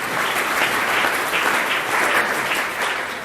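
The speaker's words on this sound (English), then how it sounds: "Let's give the professor one more round of applause" Steady, dense applause from an audience at a 2018 awards ceremony, continuous and fairly loud throughout with no speech.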